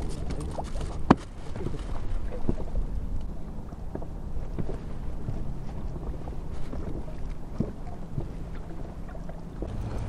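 Cold, freezing wind blows steadily across open water while out pike spinning on a boat among floating ice, a loud continuous roar and buffeting on the microphone, with a sharp knock early on and faint patter throughout.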